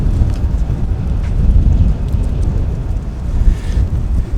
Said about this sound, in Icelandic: nú bara komið rok og rigning allt í einu